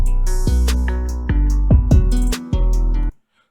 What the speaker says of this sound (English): when you hear the actual roll and the snare hit